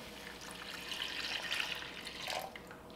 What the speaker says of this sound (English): Then we're gonna add 2 cups of veggie broth,